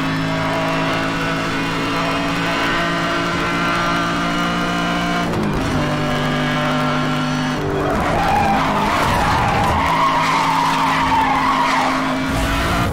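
A McLaren P1 supercar in Need for Speed Hot Pursuit roars loudly with a steady harmonic engine note, then shifts and breaks into sustained tire skidding and squeal from about the midpoint onward, continuous and close.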